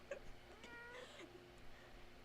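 A house cat meows a few times in a quiet indoor room, short tonal cries that stand out against faint background noise, with no talking.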